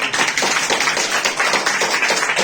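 Students in a classroom clap their hands together in a dense, steady burst of many overlapping claps, fairly loud and continuous throughout.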